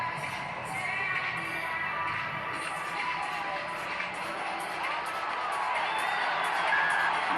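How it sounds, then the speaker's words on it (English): A stadium crowd at the Cape Town rugby sevens quarter-final, Great Britain playing, cheering after a try: a broad, distant roar with whoops rising toward the end. "Crowd are happy."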